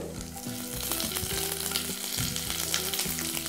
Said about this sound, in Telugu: ఇందులో మన పోపు గింజలు ముందుగా వేగటానికి టైం పడుతుంది అంటాం కాబట్టి కొద్దిగా పోపు గింజలు, దీని తర్వాత పచ్చిమిర్చి ముక్కలు